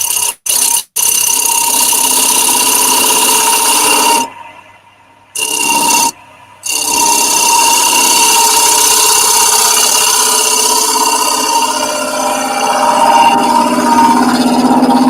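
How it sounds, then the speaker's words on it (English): Chisel cutting wood on a lathe, a loud sustained whining drone with a steady tone, a couple of brief cutoffs and a short gap, the chisel sounding dull and in need of sharpening. "That chisel sounds like it needs sharpening."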